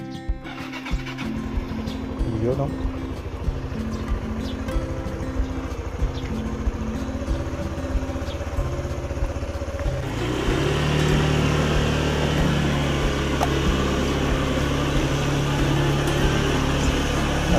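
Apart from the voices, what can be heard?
motorcycle engine warming up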